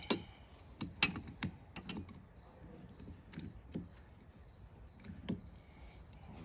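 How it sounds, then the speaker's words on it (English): A ratcheting gear wrench clicks during a bush hog repair, giving faint, irregular ticks and short clusters of clicks close by over a quiet background. "Gear wrenches here."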